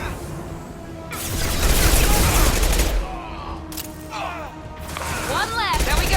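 Gunfire in the game Mass Effect 2 crackles in rapid bursts and volleys with booming impacts, while voices talk over the combat.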